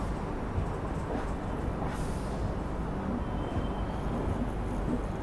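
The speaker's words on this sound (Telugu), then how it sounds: "ఐదు నిమిషాలు లేట్గా మన ట్రైన్ అయితే యశ్వంత్పూర్ రైల్వే స్టేషన్లోకి ఎంటర్ అయింది" A train running on the outer lines of Yesvantpur station behind a WDP4D locomotive: a steady, broadband rumble and roll that holds level throughout, heard from on board, with no voices.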